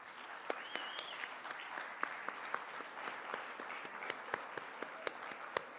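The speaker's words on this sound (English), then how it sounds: "let's give them a big round of applause" Crowd at a Cherokee speaker summit applauding event helpers, dense sustained clapping with a few sharper individual claps standing out near the listener and a brief whistle early on.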